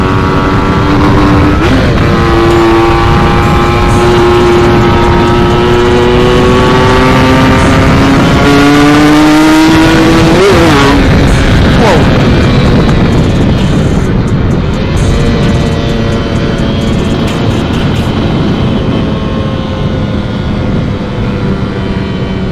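A loud motorcycle engine with a TM 34 carburettor revs hard through rising and falling pitch sweeps, climbing to a high-pitched scream near the rev limit before easing off, steady and close throughout.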